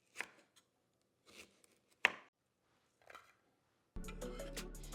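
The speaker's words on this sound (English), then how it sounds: "And then I have Fresno chilies. I'm going to cut those up first." A knife chops frozen Fresno chilies on a board in a few separate bursts of cutting, the sharpest stroke near the middle, then a steady loud rumble of a grinder takes over at the end.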